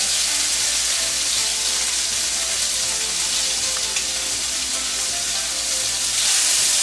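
Sauce-coated pineapple slices for tacos al pastor hit a hot pan and sizzle in a steady, loud, close crackle, with no one speaking.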